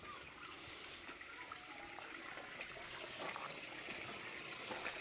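Water trickles steadily in a murky garden pond, a continuous close wash of splashing and dribbling with no talk over it.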